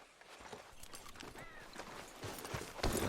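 Horse hooves clip-clop steadily at a walking pace in Red Dead Redemption 2, a rider out on the trail, the rhythmic thuds moderately close under light ambient game sound.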